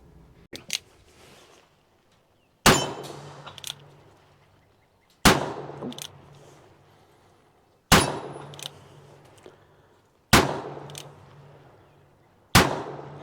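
Five sharp, loud gunshots from a Colt Single Action Army Model 1873 revolver at an outdoor range, fired at slow, roughly even intervals, each cracking and echoing briefly, with faint small clicks and handling noises between shots.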